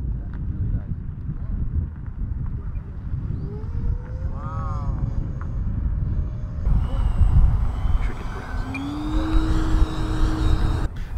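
An E-flite Viper 70mm EDF model jet flies slowly overhead with flaps down, its ducted fan giving a thin, rising and falling whine over steady wind noise, moderately distant.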